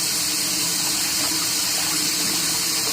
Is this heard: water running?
yes